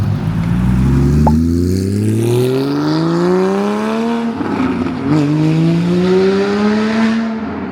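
A Porsche GT4 driving, its engine note rising smoothly through the revs, dipping briefly at a shift and climbing again, loud and close from inside the car with steady road rumble.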